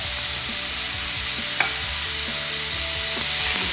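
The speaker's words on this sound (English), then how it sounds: "I've mixed it well and heated for a couple of minutes." Chickpea curry with spices, onion, tomato and green chilli being stirred in a hot pan, a continuous sizzle broken by repeated scraping strokes of the spoon at a steady rhythm and one sharp clink midway.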